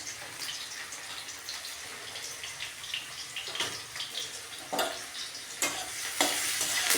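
Food frying in a pan with a little turmeric, a steady sizzle with occasional sharper stirring scrapes and splashy bursts throughout, no talking.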